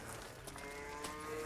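Cattle on a dairy farm in Eli Whitney, North Carolina low and moo faintly, a soft drawn-out call at a distance over steady barn ambience.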